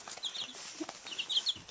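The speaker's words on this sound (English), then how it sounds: "I like these chickens. They're so excited." Young chicks about two weeks old cluck and peep in a few short bursts, moderately close and fairly soft, with faint scratching and pecking between the calls.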